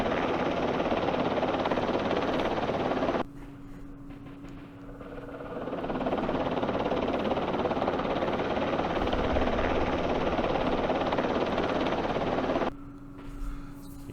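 Helicopter flying in the Campaign Series Vietnam war game, Lam Son 719 scenario: a steady, loud rotor-and-engine drone with a low hum that drops away briefly twice, no talk over it.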